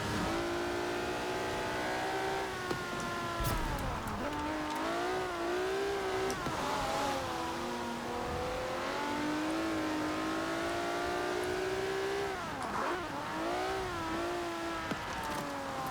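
JDM car in Forza Horizon 4 accelerating with its rear wheels spinning, the engine note climbing and dropping through gear changes as the tires chirp, steady and continuous throughout.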